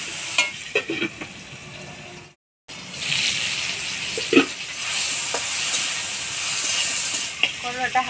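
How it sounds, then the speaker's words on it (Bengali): Bitter gourd frying in oil in a wok with turmeric and salt gives a steady soft sizzle and hiss, with a few scrapes of stirring and one brief gap of silence. "করলাটা আমি হলুদ লবণ দিয়ে ভাজে নিব।"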